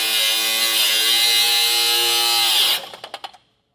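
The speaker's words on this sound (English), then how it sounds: "With these as rusted out as they are, I'm gonna go ahead and just cut them off. I've got a cutting wheel here." A cutting wheel grinds through badly rusted trailer leaf-spring shackles in a loud, steady, high-pitched screech for nearly three seconds, then cuts off as the wheel spins down with a few fading rattles.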